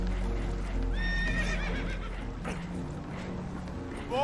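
Horses neigh and whinny with rising, wavering cries over a low rumble and clopping hooves during a rough boat ride in the Red Dead Redemption 2 video game, the calls close and loud in the first half.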